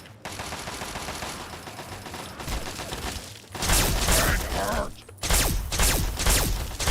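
Gunfire in Fallout 3 comes as dense, loud bursts of rapid automatic shots, with a continuous clatter of rounds that swells into heavier volleys toward the end.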